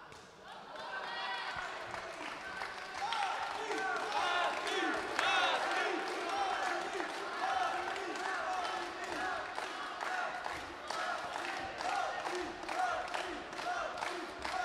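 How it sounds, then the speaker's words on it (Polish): A boxing crowd at the Adrenalina Boxing Show in Wrocław claps and cheers in a dense, sustained wash of applause with scattered louder bursts, a voice speaking over the noise throughout. "duże, duże brawa naprawdę dla Patryka Persa za nieustępliwość"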